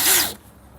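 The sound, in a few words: cordless drill trigger pulled, motor whirring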